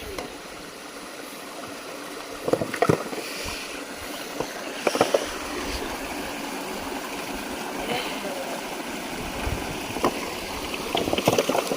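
Water pours steadily out through a breached earthen pond embankment after the pond was pumped out for traditional fishing, a continuous rushing flow with occasional splashes and faint voices.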